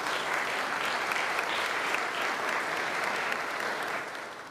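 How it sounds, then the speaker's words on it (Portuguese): A church congregation at a Holy Spirit life seminar applauds in praise of Jesus Christ, a thick, continuous crowd clapping that stays loud and steady, then eases slightly at the end. "Vamos dar uma salva de palmas para o nosso Senhor Jesus Cristo"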